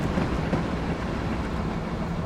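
An Amtrak regional train on the New York–New Haven line in Train Simulator 2020 rushes past nearby, a steady rolling rumble with faint clattering of wheels over rails.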